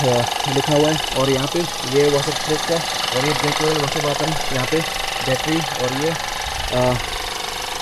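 A Toyota Urban Cruiser Taisor's 1.0L turbocharged three-cylinder engine idles with a faint, steady mechanical clatter under the bonnet, mostly buried beneath continuous close-up talking.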